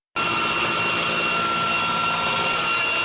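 A military helicopter flies during a troop landing exercise, with soldiers roping down. It makes a continuous loud, close turbine roar with a steady whine and does not change over the short stretch.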